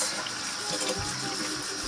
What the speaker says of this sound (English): So just wash your hands, make sure they're clean of any dirt